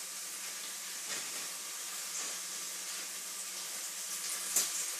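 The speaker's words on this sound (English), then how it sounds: "I'm just still frying them up in this coconut oil." Corn tortillas fry in hot coconut oil in a pan, giving a steady, quiet sizzling hiss with faint crackles and one small pop near the end.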